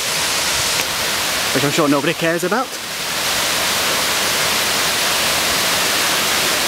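Waterfall in Scotland heard from a viewing platform as a steady, broad rushing roar filling the whole clip, with a brief spoken remark near the start.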